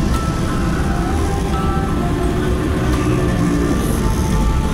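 Loud, continuous hum of heavy road traffic on the approach to an expressway, with idling and rolling engines and droning tones close by.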